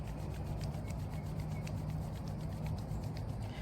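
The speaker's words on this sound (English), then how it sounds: "take your hands and rub them together" Bare hands rub briskly together to build warmth, a steady close-up friction hiss that runs unbroken for a few seconds with no voices.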